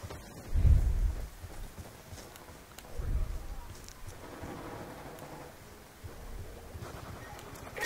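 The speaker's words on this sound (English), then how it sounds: "Hostile lightning strike inbound." Lightning strike and rolling thunder in a multiplayer shooter game: two deep booming rumbles near the start and around three seconds, with a steady rain-like wash and faint game noise underneath.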